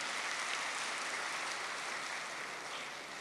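Steady, dense applause from an audience at a spiritual talk on overcoming anger, sustained evenly for a few seconds and slowly easing toward the end, with no voices over it.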